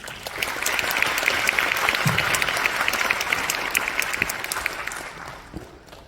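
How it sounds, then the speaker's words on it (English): An audience at a university graduation ceremony applauds musical performers, a dense, sustained wave of clapping that fills the hall, then thins and fades near the end. "Please give another big round of applause for the musical actors."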